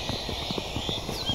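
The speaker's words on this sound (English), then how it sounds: "Oh, it's a horse." A horse walks in Minecraft, giving a steady run of hollow clip-clop hoofbeats at an even pace over a constant tonal game background.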